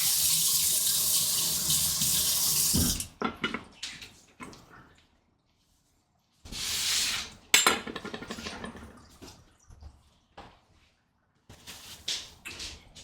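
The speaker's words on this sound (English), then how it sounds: "quick wash down of the knife" A kitchen tap runs into a sink while a knife is rinsed, a steady splashing stream for a few seconds, then shorter gushes, clinks and drips separated by quiet pauses.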